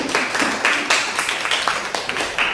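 A classroom of geography students gives a student group a round of applause, a quick uneven patter of many hands clapping at moderate loudness throughout.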